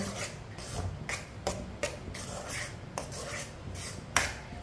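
A spoon stirs raw mango jam in a wok over a medium flame, giving faint, irregular scraping and rubbing strokes with light taps against the metal.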